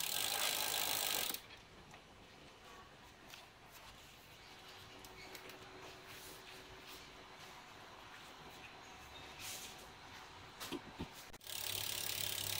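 Spinning drivetrain of a full carbon road bike with a Shimano 105 groupset and a two-ring crankset gives a soft, continuous ratcheting tick, faint and steady, with louder rustling at the start and end.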